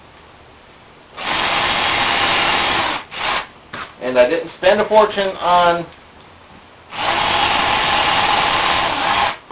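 A power drill bores holes in wood with a dowel depth stop, two bursts of steady high whirring about two seconds each, close and loud, with someone talking in the gap between them.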